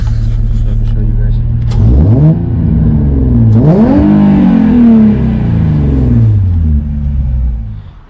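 A Nissan 350Z engine, removed from the car, revs hard twice, each blip rising sharply and falling back to a loud, close idle rumble before the sound cuts off.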